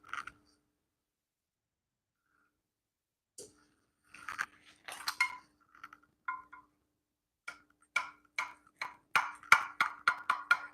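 A knife cuts into a freshly baked dish just out of the oven, with scattered scrapes and then a quick run of crisp crunching clicks, quiet and close in an otherwise still kitchen.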